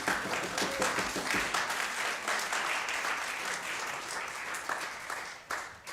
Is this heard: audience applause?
yes